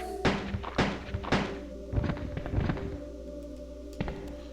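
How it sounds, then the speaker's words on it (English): Gunfire in Resident Evil 2, a few sharp muffled shots spaced about half a second apart, then two later bursts over a faint steady hum, with no talk. "Anytime you're ready, Ada, just keep firing."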